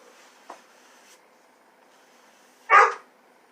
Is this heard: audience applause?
no